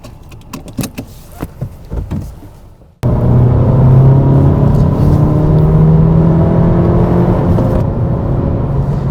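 After a few quiet knocks, a 2019 Honda Civic Si's 1.5-liter turbocharged engine roars to life and accelerates, holding a loud, steady drone with a rising tone, heard from inside.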